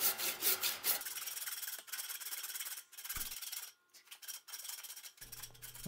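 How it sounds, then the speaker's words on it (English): Handsaw cutting through wood for a handrail spindle guitar build, a faint, irregular rasping with uneven strokes and short pauses, close by in a quiet workshop. "it's back to the trusty handsaw"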